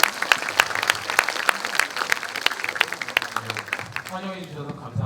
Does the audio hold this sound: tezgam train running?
no